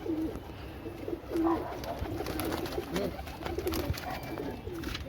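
Pigeons with clipped wings cooing in low, throaty bursts, several birds close by, with steady rustling and background noise throughout.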